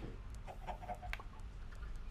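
Faint clucks from Minecraft chickens come in short scattered bursts over a quiet background.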